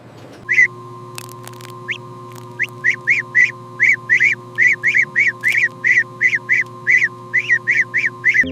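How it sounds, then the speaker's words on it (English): Young geese at a large-scale white goose farm honk in a rapid series of repeated calls over a steady mechanical hum, close and clear with no talk. "The young geese eagerly consume the feed, their growth evident."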